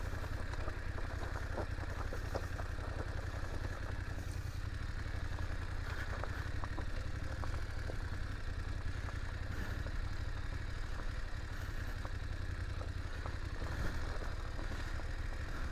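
A BMW F850GS Adventure motorcycle engine runs steadily while riding off road on wet, grippy terrain, a continuous low rumble with clattering mechanical texture and no voices.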